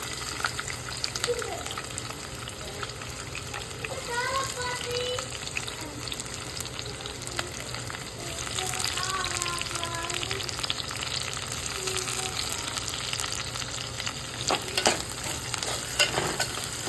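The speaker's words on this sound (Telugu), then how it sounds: "దీంట్లో ఉల్లిపాయలు అయితే వేసేస్తున్నానండి." Onions sizzle and fry in a pan while a spoon stirs them, a steady close crackling hiss with scraping strokes throughout, made while cooking a broad bean and egg curry.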